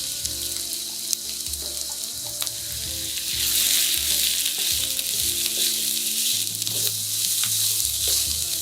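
Onion and red onion sauté in extra virgin olive oil in a pan over medium-high heat, a steady close sizzle with occasional stirring scrapes, growing louder partway through.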